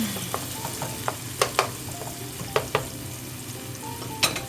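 Garlic sizzles in a hot pan of shrimp fettuccine sauce, with a steady close frying hiss punctuated by several sharp utensil clicks and stirring scrapes against the pan.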